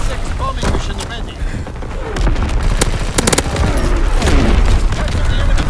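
An artillery battery firing in a World War II strategy game, heavy booms and rattling gunfire layered into a loud, dense battle din with voices speaking over it.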